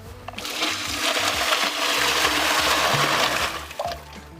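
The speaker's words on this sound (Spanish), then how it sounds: "¿Ya le echo el agua?" Water is poured into a newly installed biodigester, making a loud, continuous rushing gush that lasts about four seconds before tapering off.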